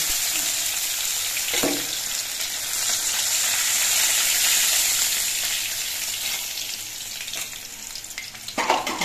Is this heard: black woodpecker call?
no